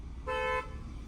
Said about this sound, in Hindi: हॉर्न